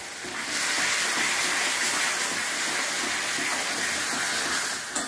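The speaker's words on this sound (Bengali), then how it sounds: "মশলাটা ভালো মতো কষানো হয়ে গেছে" A pan of spice masala with turmeric, cumin and coriander powder fries with a loud, steady broadband sizzle that holds unbroken throughout, close and alone.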